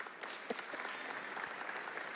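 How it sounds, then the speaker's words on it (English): A graduation audience at a college commencement applauds supporters, continuous, faint clapping that sounds distant and even throughout. "Let's do a round of applause for all those that support."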